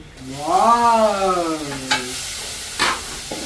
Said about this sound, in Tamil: இப்போ வெங்காயம் வந்து பொரிஞ்சிட்டு அடுத்தது தக்காளி